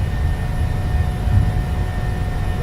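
PMDG 737-600 jet engines roaring at takeoff power in a flight simulator game, a steady low rumbling drone with constant broadband hiss throughout.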